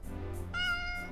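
A single cat meow in a video game, close and clear, rising then falling briefly over a quiet background.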